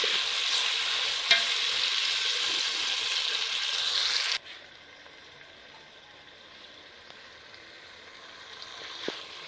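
Chopped turnip, chopped tomatoes and whole green chillies being stirred in a frying pan, a steady close sizzle with scraping stirs that softens partway through, with no talking.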